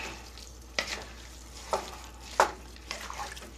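A spoon stirs a chunky onion and garlic soup in a pot, making a low wet simmer broken by a few soft scrapes and clinks, quiet and close.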